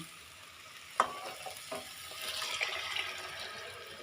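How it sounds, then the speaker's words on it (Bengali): Grated carrot fries in ghee for North Indian gajar halwa, a soft, steady sizzle with a quiet clack of a stirring spoon near the start, close and gentle. "খুব ভালো করে ঘিয়ে ভাজতে হবে"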